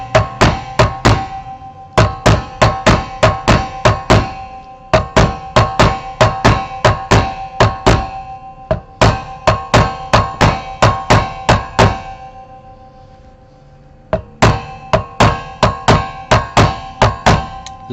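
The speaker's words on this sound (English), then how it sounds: "This is a plastic hammer," Plastic-and-brass hammer tapping metal guitar frets during fret work, a steady run of sharp, close knocks in quick bursts separated by short pauses.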